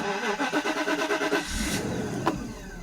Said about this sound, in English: So if we start the engine now